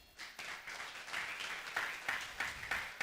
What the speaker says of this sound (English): Please put your hands together for Funke Treasure.